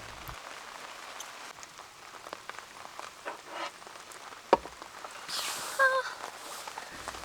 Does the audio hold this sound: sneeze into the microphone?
no